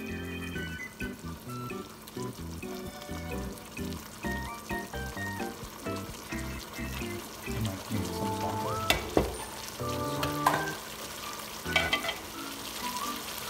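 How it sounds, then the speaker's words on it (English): Boiled penne stirred into a spiced white sauce in a pan, with steady close sizzling and frying under repeated scraping and stirring strokes, and a few sharper clinks and knocks toward the end; no talking. "to this I'm going to add my pasta now"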